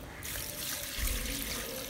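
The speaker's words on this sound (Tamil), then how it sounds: "இந்த ஸ்டேஜ்ல நம்ம தண்ணி சேர்த்துக்கலாம்" Water is poured into a pot of cooked chicken for a one-kilogram chicken dum biryani, a steady close splashing stream heard alone.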